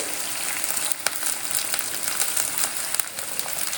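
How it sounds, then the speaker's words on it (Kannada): Chopped onions fry in hot oil with mustard seeds, cumin and curry leaves for tomato gojju, giving a steady close sizzle with faint crackles and occasional light clicks. "ಕಟ್ ಮಾಡಿರೋ ಈರುಳ್ಳಿ ಹಾಕೊಳ್ಳೋಣ. ಮತ್ತು ಕರಿಬೇವಿನ ಸೊಪ್ಪು"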